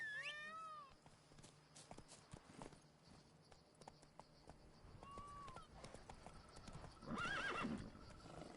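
Roach, Geralt's horse in The Witcher, clops along at a walk, gives a whinny and snorts, and later one louder stretch of hoof sounds stands out. The clip is faint overall, with short tonal calls near the start.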